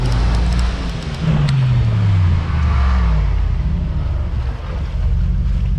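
A 585 horsepower G-Power SUV engine revs and accelerates in a loud roar, with a rising pitch sweep near the start, over heavy wind and rumble close by.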